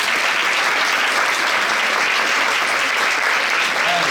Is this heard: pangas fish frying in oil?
no